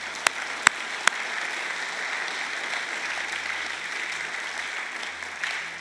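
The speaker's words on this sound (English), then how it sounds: "Let's give the Lord a round of applause." A church congregation applauds during a sermon: a thin, even patter of clapping, with a few loud single claps near the start, continuing at a moderate level throughout.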